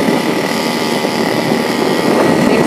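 A homemade motorized bicycle powered by a weed whacker engine idling while coasting downhill, a steady buzzing two-stroke drone, loud and close, with no talking.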